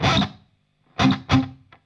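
Delay effect from a Jeff Loomis Devil's Triad guitar pedal with the reverb off: a loud guitar burst followed by two clear repeats and a faint, short final echo, no voices.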